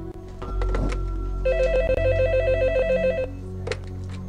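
A telephone rings in the video game Phantasmagoria 2, a loud electronic trilling bell that rings steadily for about two seconds over low game ambience, with no talk.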